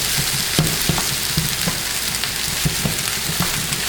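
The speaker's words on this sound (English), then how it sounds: "And I'm going to add that egg and just break it into the rice as well." Egg being stir-fried into chicken fried rice in a pan gives a steady, close sizzle with repeated scraping and stirring clatters, and nobody talks.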